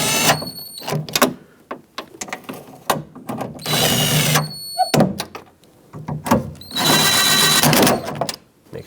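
Ratcheting a Honda Civic side mirror's mounting nuts in bursts of quick mechanical clicks, separated by pauses and single clunks from handling the tool and door, close and fairly loud.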